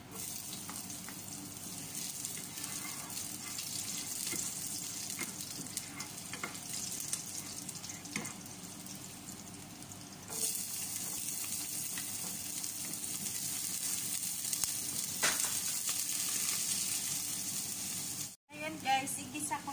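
Pressure-cooked beef sautéing with garlic and onion in a pan for beef caldereta, giving a loud, steady sizzle and crackle that runs without a break, with occasional stirring scrapes.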